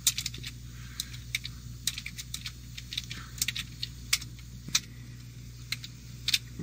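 Rapid irregular clicking of keys as someone types on a computer keyboard, crisp nearby taps over a low steady background hum, with no talking.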